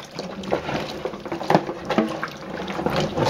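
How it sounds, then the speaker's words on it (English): Black walnuts rinsed in a kitchen, swished and sloshed in water, giving repeated splashing and gurgling surges close by with no talk. "First rinse gets most of the major gunk off of them."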